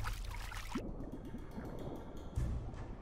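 A stegosaurus drinks at a lake in the survival video game The Isle Evrima, giving soft repeated wet laps and dripping splashes over a low outdoor ambience, with a louder slosh near the end.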